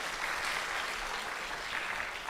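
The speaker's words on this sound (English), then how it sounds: "Another warm round of applause." An audience at a green-transition launch event gives a round of applause, heard as a soft, steady wash of clapping from across a hall, fairly distant and unbroken.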